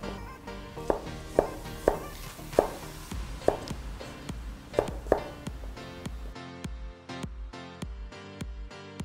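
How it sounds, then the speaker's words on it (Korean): Whole garlic cloves are sliced into thick rounds with a knife on a cutting board, a series of distinct close chopping knocks at an uneven pace, then faster regular taps toward the end. "마늘은 잘 씻어주시고 꼭지 제거하셔서 모양 그대로 편을 썰어 주도록 하고요"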